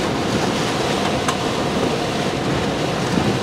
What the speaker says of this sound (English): Getting wind gusts deep into hurricane intensity.